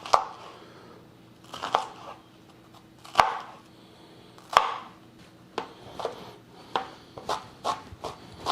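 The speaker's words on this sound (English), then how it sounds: "We'll start by dicing up one shallot." A knife dices a shallot on a cutting board, sharp chopping strikes landing irregularly at first, then speeding into a quicker run of cuts, close and distinct with no voices.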